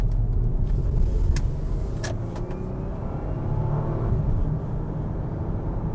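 A first-generation Acura MDX with a Honda-built V6 and worn suspension drives and accelerates smoothly, giving a steady, fairly loud low engine and road rumble heard from inside the cabin, with no talking.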